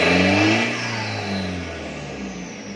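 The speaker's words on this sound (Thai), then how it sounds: "ผมจะกรอรอบไปดูนะครับ" Chevrolet car engine with an electric throttle box revving up, a loud sustained roar that sweeps in pitch and then settles into a steady high-rev drone close by, with no talk.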